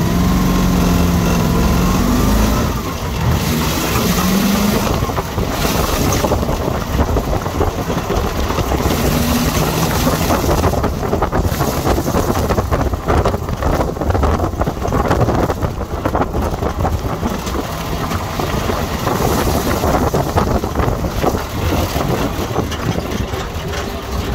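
A 5.7-litre 350 V8 fitted in a VW Beetle (Coccinelle) drones loudly inside the cabin, a steady heavy engine rumble with wind buffeting, sustained and close throughout.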